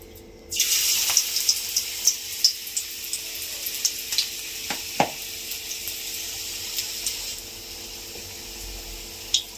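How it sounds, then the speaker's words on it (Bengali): Steady hissing sizzle of onion fritters frying in hot mustard oil starts suddenly and continues, with occasional light pops and crackles, close and alone. "তেল গরম হয়ে গেছে, এবার পেঁয়াজি"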